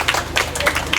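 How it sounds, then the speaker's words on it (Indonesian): Brief, light clapping from a small audience at an Autism Awareness Day event attended by the deputy governor of NTT, a few uneven claps over a steady low hum. "Tepuk tangan dulu buat Jonas"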